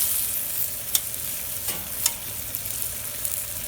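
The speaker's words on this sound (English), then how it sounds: "So we'll just throw that one right there on the fire." Johnsonville chorizo sausages sizzle over an open fire in a pan, a steady broadband crackle with a few sharp pops and clinks standing out, fairly close and without talk.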